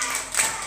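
Children clap their hands together at a Maulid Nabi gathering in a Quran school, a steady patter of small claps that swells briefly near the middle of the short burst.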